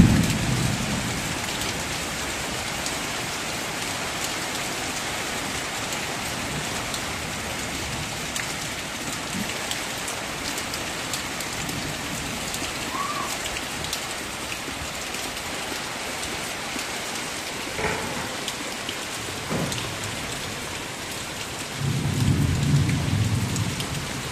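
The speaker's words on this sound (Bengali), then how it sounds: "তো এখন যে বৃষ্টি শুরু হয়ে গেছে, বৃষ্টির বাতাস, তার সাথে হচ্ছে বিদ্যুৎ চমকানো," Heavy rain pours steadily in a village during a storm with wind and lightning, a constant loud wash with low thunder rumbling near the end.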